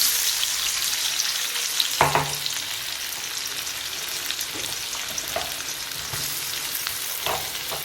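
Garlic, chillies and onion frying in a pan, a steady close sizzle with occasional sharper spatters and stirring scrapes, loud and continuous without talk.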